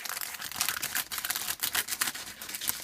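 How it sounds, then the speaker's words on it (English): Scissors cut open a plastic LEGO polybag in a series of close, crisp snips and crinkling rustles, fairly quiet, with no one speaking. "So I'm just going to open this up with some scissors"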